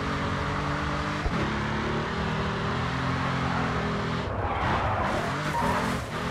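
A race car in Grid 2 skids through a touge run, tires squealing and screeching loudly over a sustained engine drone, the squeal rising and shifting through several bursts.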